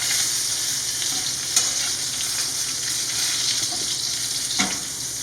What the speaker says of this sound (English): You can see that fat's still got a nice sizzle on it.